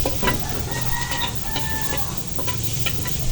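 Garlic and onion sautéing in a kawali, a steady close sizzle and crackle running without a break, with a few faint high chirps over the frying.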